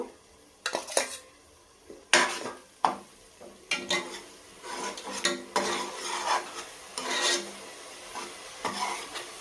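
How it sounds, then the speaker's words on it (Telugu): Slit green chillies fry in oil in a pan while a spatula scrapes and clanks against the metal in repeated bursts, with a steady sizzle underneath and no talking. "చూడండి ఫ్రై అయింది, ఇంకొంచెం ఫ్రై అవ్వాలి."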